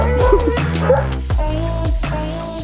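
Many dogs at a crowded no-kill animal shelter in Lebanon bark, yip and whimper together in a dense, overlapping chorus, loud and close, with no talk over them.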